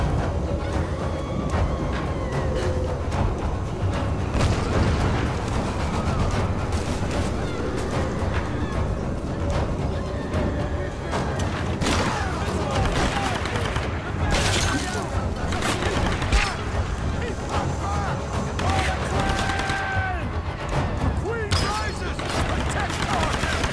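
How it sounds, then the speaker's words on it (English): Enemy gunfire in Tomb Raider Definitive Edition, a dense continuous barrage of shots and bursts mixed with game effects and music, loud and sustained throughout, with some voice underneath. "I didn't realize there was gonna be people shooting at me"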